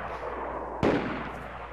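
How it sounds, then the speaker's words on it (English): A single sharp gunshot in a video game, one sudden crack about midway through, set against a quiet, steady background hum and fading quickly. "Please start popping shots off towards the tree line."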